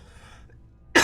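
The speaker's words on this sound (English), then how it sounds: "Oh, God, here comes the cough." A single sharp, loud cough bursts out suddenly at the end, close to the microphone, after a quiet stretch of faint game background sound during a Mass Effect Legendary Edition play session.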